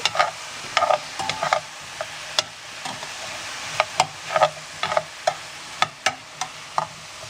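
Paella vegetables sizzle steadily in a pan as they are stirred, with a quick run of spoon scrapes and clacks against the pan early on and spaced knocks afterward, close and clear with no talking.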